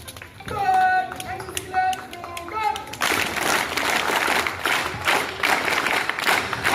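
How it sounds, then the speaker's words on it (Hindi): At a Republic Day college gathering, a speaker's voice gives way to a burst of audience clapping, many hands beating in a loud, dense patter that continues steadily to the end. "ताली मारो।"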